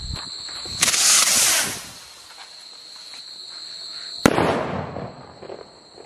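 A two-piece Diwali rocket firecracker bursts twice, each a loud sharp bang trailing into a crackling hiss, the second a few seconds after the first, with crickets chirping steadily behind.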